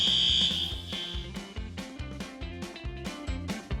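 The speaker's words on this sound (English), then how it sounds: "The fire alarm's going off for something." A fire alarm sounds in a subway station during a live TV news report, a loud repeating electronic pattern of pulsing tones with a piercing high beep at the start.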